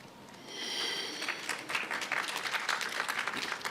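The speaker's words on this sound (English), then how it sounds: "Oh, clapping for elements now." Audience clapping builds after a brief high tone, swelling into a lively patter of many hands that stays steady and moderately loud to the end.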